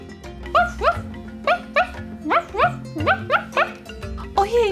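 Small puppies in a Barbie cartoon yip and bark in quick, high-pitched bursts. Several short calls come in a lively, uneven rhythm, close and fairly loud, with a few whimpering rises.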